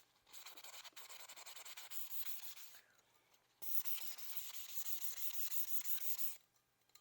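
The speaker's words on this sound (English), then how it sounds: "here I am double sanding it and then again making sure" A tumbler is hand sanded before its epoxy coat, giving two long stretches of close, steady, scratchy rubbing separated by a brief pause, with no voices.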